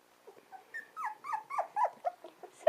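A puppy named Roo whimpers and growls, a string of short high whines and yips rising and falling in quick succession, close and fairly loud.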